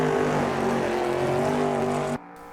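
Corvette C3R race car in the AMS2 racing game, its V8 engine holding a loud, steady, buzzing drone at high revs with slight pitch drift, then cutting abruptly to a quieter idle-like hum near the end.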